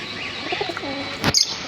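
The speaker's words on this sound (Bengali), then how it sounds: "পাপোস পায়রা জোড়া আছে, দু জোড়া আছে, আর একটা সিঙ্গেল আছে" Pigeons kept in a cage, including paired fantail birds, give soft cooing and brief chirps, close by, followed by a sharp rustle near the end.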